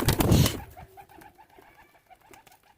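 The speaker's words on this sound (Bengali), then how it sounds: "বন্ধুরা আমার পায়রা সকাল থেকে ছাড়া আছে, এখন আপনাদের উড়িয়ে দেখাবো" Rooftop pigeons let out to fly burst into a loud flurry of wing flaps up close, followed by a soft run of repeated cooing calls.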